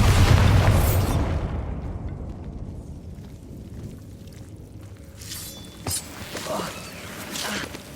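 A Bombardo spell explodes in Hogwarts Legacy with a loud, close boom that decays over a couple of seconds. Quieter game sounds and scattered crackles follow.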